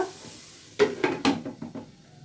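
Cauliflower fry being stirred in a pan, with a few distinct scraping and clattering strokes of a utensil against the pan over a soft background sizzle, close and moderately loud.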